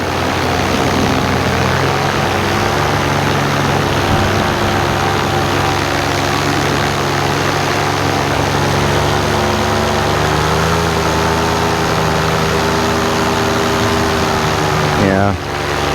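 Paramotor engine and propeller droning steadily and loudly in flight low over a cornfield at evening, a constant buzzing hum with a slight throttle shift near the end.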